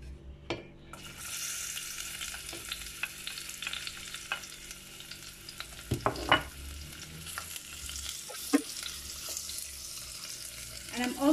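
Chopped onion fries in hot oil in a pan with a continuous sizzle and crackle, while occasional stirring clinks and scrapes come through. No one speaks.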